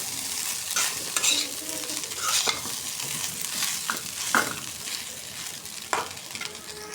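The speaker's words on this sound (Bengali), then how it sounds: "এই ভাতগুলো দিয়ে দিচ্ছি, এখন ভালোভাবে ভাজতে নেব" Cooked rice fries with onions in a pan, sizzling continuously while a spoon scrapes and tosses it in irregular, close strokes over several seconds.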